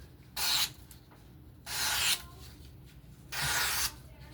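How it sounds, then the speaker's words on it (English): A Divo Mash V2 knife with a 14c hollow-ground blade is sharpened freehand on a stone in three separate rasping strokes with brief pauses between them, close and fairly quiet. "That was the sharpening of the Mash V2 Divo knives."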